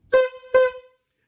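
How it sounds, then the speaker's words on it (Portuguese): A horn sound effect blares twice in quick succession, two loud, bright tonal honks, the second slightly longer, alone with no talk around it. "Merece super a buzina do Charizard Gilson"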